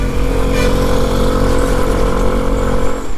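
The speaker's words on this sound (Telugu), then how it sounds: "ఎగ్జాస్ట్ సౌండ్ కూడా మీకు వినిపిస్తాను" A Vespa SXL 125 scooter's exhaust note, a steady, loud engine drone with strong low harmonics running continuously close by, with no talk over it.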